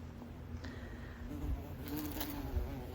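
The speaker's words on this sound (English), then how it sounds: "The bees are having a heyday with them." Bees buzzing around wild blackberry blossoms in a garden of raised beds, a soft, steady insect hum drifting close and far against quiet outdoor background.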